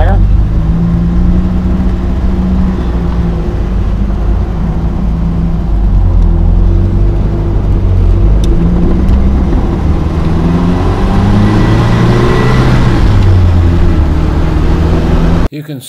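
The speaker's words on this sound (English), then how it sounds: "I'm going to take you on a short drive in the Spitfire." A red 1977 Triumph Spitfire convertible drives along with a loud, continuous engine drone whose pitch rises and falls through gear changes, accompanied by heavy road and wind rumble, ending abruptly.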